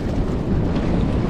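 Strong wind buffets the microphone on a sunny, breezy shore in Mauritius during shore casting, a continuous rough roar with surf mixed in.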